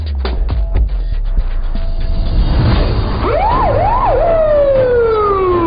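A police car siren wails during a raid in a Turkish TV comedy, entering after a few sharp knocks and clatters, rising and falling, then sliding into a long descending tone, loud and close.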